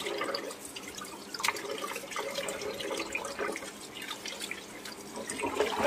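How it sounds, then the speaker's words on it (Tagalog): Running water splashes steadily over raw crabs and shrimp being rinsed in a sink, with scattered drips and small splashes as the seafood is handled, close and continuous with no talking. "Hugasan po natin mabuti. Hugas-hugas po."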